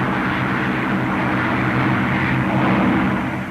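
A 1940s fighter plane engine roars steadily and loud during take-off and climb, a dense, continuous propeller drone with no voices.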